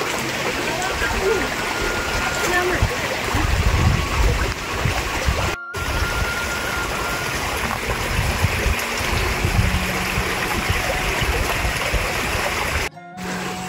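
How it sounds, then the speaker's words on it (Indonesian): A clean river stream flows near a stilt house among rice paddies, a steady broad rushing wash heard close, with people talking over it. "aliran air tuh sangat bersih"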